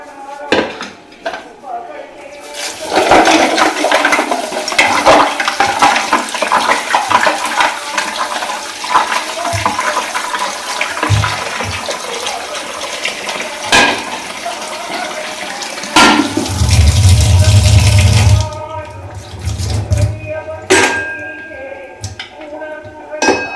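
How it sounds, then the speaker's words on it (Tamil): Water splashes and sloshes as goat legs are rinsed, with dishes and metal clinking and a tap running, fairly loud and continuous for most of the clip. "நல்லா தண்ணியில் போட்டு அலசி"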